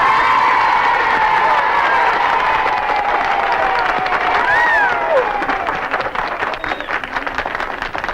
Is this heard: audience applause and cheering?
yes